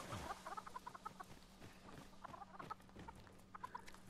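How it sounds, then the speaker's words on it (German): Chickens in Dragon's Dogma 2 cluck in a steady run of short, bright, clipped calls over soft ambient background noise, close and fairly quiet throughout. "ich mag das liebe Federvieh"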